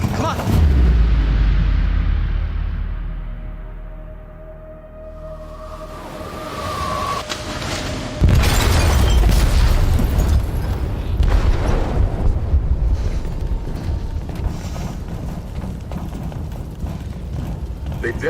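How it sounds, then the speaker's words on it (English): A heavy explosive blast detonates in a ship's hold in Detroit: Become Human, a loud broadband boom that rises and settles into sustained roaring rumble and debris noise. "They detonated an explosive in the hold."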